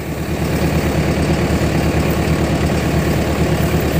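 Engine started and run for a test, a close, steady, loud idle with a fast low rhythmic chug throughout.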